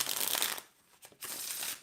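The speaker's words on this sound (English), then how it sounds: "if I'm shuffling the cards" Deck of playing cards being shuffled close up, two bursts of dense riffling and flicking separated by a short quieter pause, no talk.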